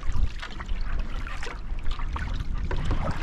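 A kayak paddles against a strong headwind among open water channels near Häradskär, with constant wind rush and water swishing around the hull in close, loud, uneven bursts.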